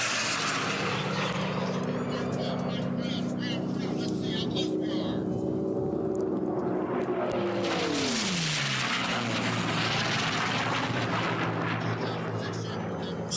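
Racing airplanes roaring at the Reno Air Races during an Unlimited Gold race, a loud sustained engine drone that sweeps down in pitch as a plane passes, with wind and announcer talk over it.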